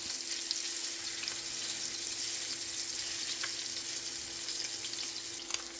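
Meatballs frying in a sauté pan give a steady, close crackling sizzle throughout, with a few sharper pops and no talking.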